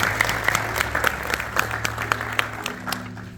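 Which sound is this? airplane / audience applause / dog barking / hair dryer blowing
audience applause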